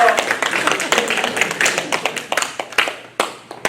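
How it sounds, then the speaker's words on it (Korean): Church congregation giving a welcome round of applause, a short burst of distinct individual hand claps from a modest group, crisp and close, tapering toward the end. "우리 환영의 박수."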